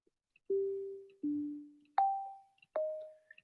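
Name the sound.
modular synthesizer resonant filter ringing sounds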